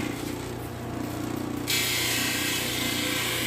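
A 280-grit grinding wheel smooths scratches from around a gemstone girdle: a low steady motor hum, then a brighter continuous hiss as the stone meets the wheel partway through.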